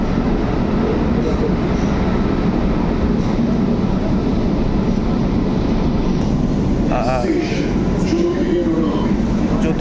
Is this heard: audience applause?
no